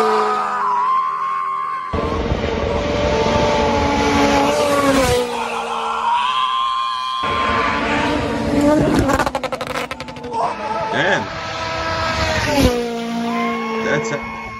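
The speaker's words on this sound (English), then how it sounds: "Here is how it looks like when rally cars go all out with success." Rally cars racing flat out, engines roaring and revving with sharp gear changes and tyre noise, loud and close, with talk over the top.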